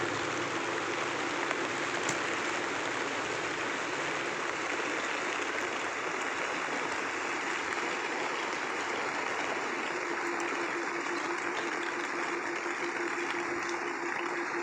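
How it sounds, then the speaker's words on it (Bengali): Steady rain pours down outdoors during a monsoon-season downpour, a dense continuous hiss that holds evenly throughout with no voices over it. "আজকে বেশ ভালোই বৃষ্টি হচ্ছে"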